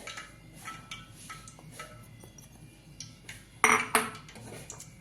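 Gram flour, rice flour, soda, cumin and ajwain mixed in a bowl for onion bhaji batter: quiet clinks and scrapes of a spoon against the bowl, with a louder clatter near the end.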